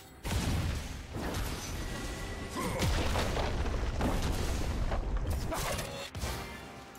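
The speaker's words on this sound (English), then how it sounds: "Red team's turret has been destroyed." A turret blows up in League of Legends, a loud booming crash with creaking, mechanical debris over dense game effects that carry on for several seconds.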